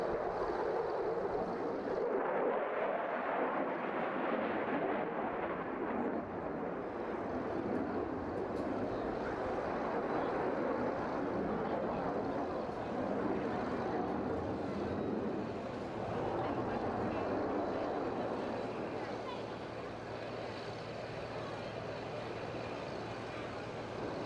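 A Eurofighter jet flying a display at the Wales Airshow, a broad distant roar of engine noise swelling and fading steadily over the whole stretch, with talk audible beneath it.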